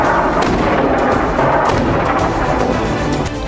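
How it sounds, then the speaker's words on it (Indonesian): Artillery and rocket fire in war news footage, a dense barrage of repeated booms and thuds blending into a loud continuous rumble. "Serangan roket dan peluru artileri Hizbullah menyasar konsentrasi pasukan Israel."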